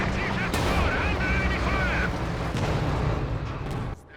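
Artillery and indirect fire booming across a Company of Heroes 2 battlefield, with dense, continuous rumbling blasts and crackling gunfire, plus a sharp impact near the start and another midway, all under steady battle noise.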